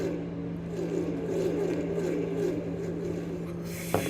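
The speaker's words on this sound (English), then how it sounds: "Let's listen to the throttle and just how much throttle he uses" Joey Logano's NASCAR race car at the South Point 400 holds a steady, droning engine note at a constant throttle for about four seconds, with a brief sharp blip near the end.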